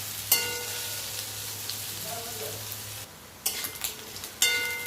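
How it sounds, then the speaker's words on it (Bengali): Potatoes frying in a wok give a continuous sizzle, with stirring scrapes and clatters starting and stopping, a brief quieter stretch partway through, and no voices. "তো দেখুন অনেকটা ভাজা ভাজা হয়ে এসছে, আর একটু ভাজবো"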